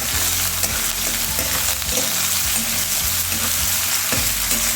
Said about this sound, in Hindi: प्याज का हल्का कलर चेंज होने तक भूनेंगे